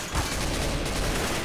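Sustained gunfire rattles through a tense round of the shooter CS:GO in tournament mode, a dense, loud barrage of overlapping shots with no pause.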